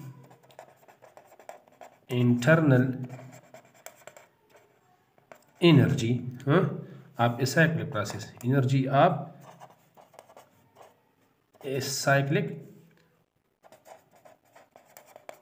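A pen scratches across paper while someone writes out a definition by hand during a physics lesson, with soft writing strokes filling the pauses between a man's spoken explanation.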